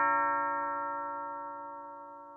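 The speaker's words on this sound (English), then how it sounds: "I've got some doorbells as well" A doorbell chime rings out once as a sustained, bright tone and fades slowly over a couple of seconds, with no voices around it.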